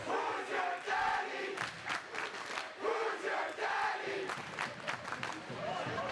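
High school hockey crowd at a Hopedale-Milford versus Blackstone Valley Tech game, a rink full of fans cheering and chanting in loud, rising and falling waves with shouted voices.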